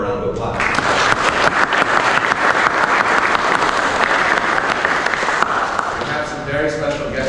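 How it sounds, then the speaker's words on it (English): An indoor audience applauds at a Chicano history event, dense clapping building quickly and sustained for several seconds before tapering slightly at the end. "Let's give them a round of applause."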